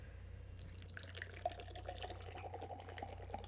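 Beer surging and fizzing as it is poured from a can into a glass, a faint continuous bubbling and trickling with a low background hum.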